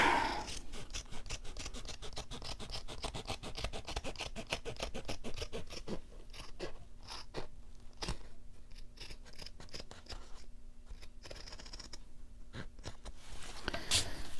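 Scissors snip repeatedly through fabric for a Valentine's journal cover, a fast regular run of crisp close cuts followed by a few slower, spaced snips; no voices.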